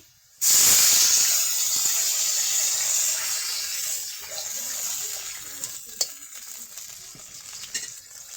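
Water splashed into a pan of frying onions and ground spice paste sets off a sudden loud hiss that holds as steady bubbling sizzle, easing slightly, with a few clicks of a utensil.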